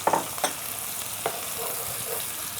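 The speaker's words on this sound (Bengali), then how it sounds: "এখানে আমি দিয়ে দেব এক কাপের একটু বেশি পেঁয়াজ" Onions frying in a pan for a duck kaliya curry: a steady broadband sizzle with a few sharper scraping stirs near the start and middle, fairly close and moderately loud, with no talking.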